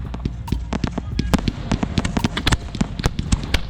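Fireworks display set off by a pyro team, rapid crackling bursts and pops in dense irregular succession, fairly loud, with a voice talking over them.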